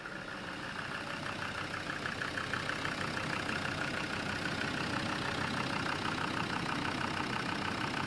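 A Land Rover Td5 diesel engine idles steadily and smoothly close by, with a continuous even rumble and light clatter that holds at a constant level throughout, with no voices.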